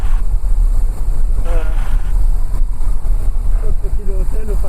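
Small aircraft engine idling at 1200 rpm before shutdown, a steady loud low rumble with wind noise and a voice talking briefly over it.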